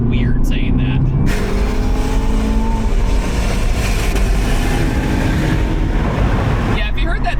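An Aston Martin Valhalla hypercar drives on the road, its engine and road roar loud and constant from the cabin. Rushing wind rides over the engine throughout.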